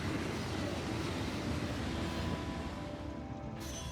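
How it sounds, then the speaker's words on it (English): A train in a modded factory-building video game rolls in as a loud, steady low rumble with a faint mechanical whine, continuous throughout without talk. "a train comes to transport the copper plates"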